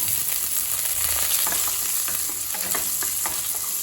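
One onion with garlic, urad dal and chana dal frying in oil for tomato coriander chutney, a constant close sizzle with light stirring scrapes over it, no voices.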